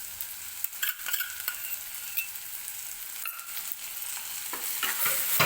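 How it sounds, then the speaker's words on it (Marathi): Ginger garlic paste fries in hot oil with onion and tomato, a steady soft sizzle broken by scraping stirs of a spoon against the pan, growing slightly louder toward the end. "पेस्ट सुद्धा व्यवस्थित कांदा आणि टोमॅटो सोबत भाजून घ्यायची."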